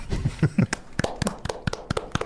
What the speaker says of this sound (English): I do not need your applause